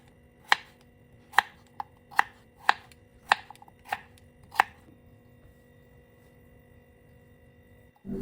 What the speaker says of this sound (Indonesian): selanjutnya aku akan potong-potong wortel dan kentangnya